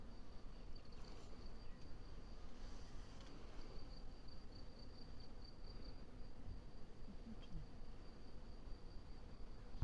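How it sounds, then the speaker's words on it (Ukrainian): Bee swarm at an apiary after being shaken into a bucket, giving a faint, steady buzzing hum with a soft high whine that runs throughout, and no voices. "Пішов, рій нам стрибнув у відро."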